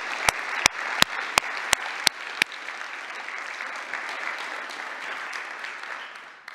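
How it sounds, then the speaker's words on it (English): Conference audience applauding volunteers at the LATO Riga Conference: a steady wash of clapping from a large crowd, with several sharp close claps punctuating the first two seconds before the applause continues evenly to the end. "Big applause to all of them."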